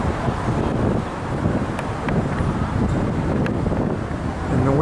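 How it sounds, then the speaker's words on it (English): Strong wind buffets the microphone outdoors in a large city park, a continuous loud rumbling roar with gusty swells and no clear voices. "the wind's not cooperating"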